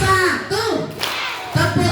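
Children at a Maulid Nabi religious talk clap a few times in short bursts, mixed with voices and chatter in a busy room.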